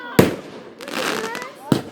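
Fireworks being shot off at a Fourth of July backyard show: two sharp, loud bursts about one and a half seconds apart, with a crackling, hissing stretch between them and voices talking in the background.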